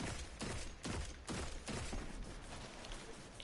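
Gunfire in Destiny 2 against a single heavily armoured enemy, dense repeated shots in quick bursts with a steady rhythm, loud and close, and no talking.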